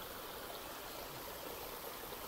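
Water swirls in a bioponics vortex tank, a steady, soft, continuous gurgling rush with no voices and no breaks.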